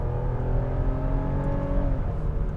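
A 2017 Lexus ES 350 accelerating smoothly, a steady, fairly quiet engine drone and road hum with rising tones, heard alone without talk.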